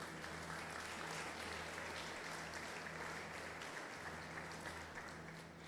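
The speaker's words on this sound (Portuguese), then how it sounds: "Você pode aplaudir o Senhor?" A church congregation at a Thursday evening service claps in a steady, dense wash of applause. It is heard at a distance and holds evenly for several seconds.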